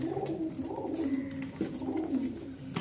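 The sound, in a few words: pigeons cooing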